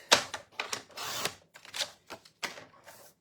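Pecan pie cardstock being cut to size on a paper trimmer, a series of sharp, close clicking and slicing strokes in quick irregular bursts, with no talking.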